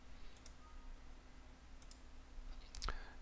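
A quiet room, mostly still, then a single sharp computer mouse click near the end, with a couple of faint ticks earlier, over low background hum.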